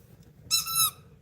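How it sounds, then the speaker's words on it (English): A dog's squeak toy, set right next to a microphone, gives one sharp, high-pitched squeak lasting about half a second, clear and alone over a quiet background. "I put her squeak toy"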